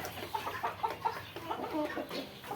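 Several large tiger breed chickens cluck and murmur close by in a series of short, soft calls, with faint background voices.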